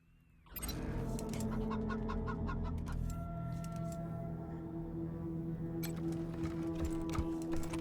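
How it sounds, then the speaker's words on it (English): A robotic chicken in the video game Wasteland 3 clucks in quick, close repeated bursts over a steady mechanical hum, starting abruptly and continuing throughout. "Oh, we did find a robotic chicken."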